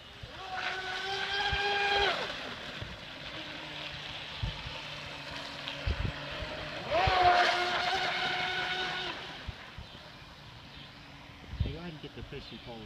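A Proboat Blackjack 29 RC boat on its first LiPo run speeds across the water, its high, buzzing motor whine rising in two bursts with quieter running between, while people talk nearby.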